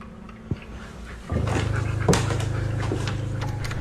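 A frightened, frozen-up dog whimpers and pants close by indoors, a thin steady whine over quick breathy panting, with a sharp knock just before it begins.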